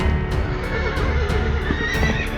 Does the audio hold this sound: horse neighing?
yes